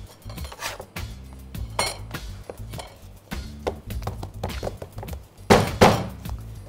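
A pizzaiolo slaps Neapolitan pizza dough by hand on a work surface, giving a quick, irregular run of soft slaps and thumps that ends in a couple of louder, sharper smacks, with no talking.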